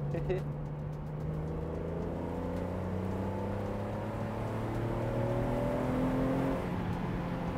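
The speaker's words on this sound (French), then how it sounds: "Oh, les envolées de ce moteur, c'est quelque chose quand même." A BMW Z4 M Roadster engine revs up from inside the car, its rising tone climbing steadily through the gears to a strong high-pitched pull before easing, continuous and prominent over road noise.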